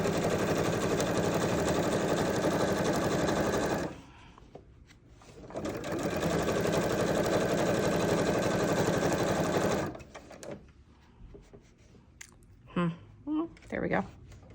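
A sewing machine runs in two long bursts, stitching down a quilt binding with a steady, fast mechanical whir, close and loud. A short pause falls between the bursts, and faint handling noises and brief speech follow.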